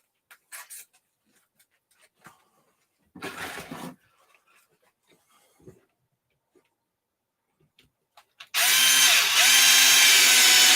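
A power driver drives screws while an Arrma Kraton RC car is assembled, first quiet clicks and a short whir, then a loud, steady, close motor whine near the end, no talk.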